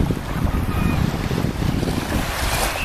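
Surf washes steadily onto English Bay beach in Vancouver, a continuous rushing roar mixed with wind buffeting the microphone, with no talking.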